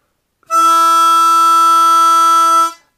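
A harmonica plays a tongue-blocked octave with holes three and six blown together, one steady sustained chord held for about two seconds, clear and close with no talking.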